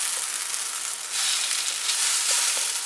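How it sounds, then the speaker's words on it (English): Steady dry sizzling and crackling of shirataki noodles dry frying without oil in a hot pan, loud and close, with a few faint stirring scrapes. "this is what we call dry frying. There's no oil in."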